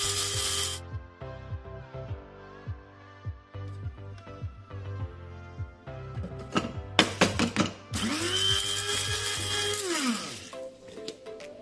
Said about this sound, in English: So I'm going to add the black seed into the blender. Then I will blend into a fine powder.